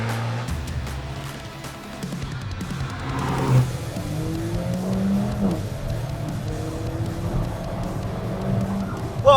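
An Alfa Romeo 4C sports car pulls away, its engine note rising and falling through revs with tire noise, fairly close, ending in a short burst near the end.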